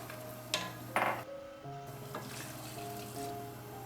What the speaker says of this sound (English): Add the boiling chicken broth.